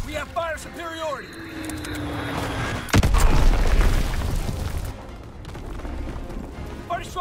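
Enemy bomb explosion in Call of Duty WWII multiplayer, a sudden loud boom that rumbles and decays over a couple of seconds, following shouted game voice lines and gunfire-like clatter.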